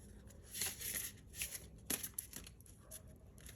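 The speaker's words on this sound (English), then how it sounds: "Let's shuffle more of these oracle cards and see what else we have for you." Oracle cards are shuffled by hand in a quiet room, with soft, papery riffles and slides coming in several short bursts.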